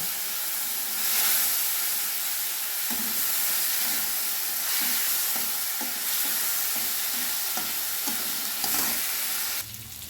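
Turmeric and Kashmiri chili paste sizzles steadily in hot oil while a spoon stirs through it with soft, regular scraping knocks, the frying hiss staying loud and close throughout.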